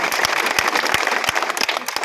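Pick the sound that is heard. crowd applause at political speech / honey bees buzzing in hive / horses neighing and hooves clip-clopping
crowd applause at political speech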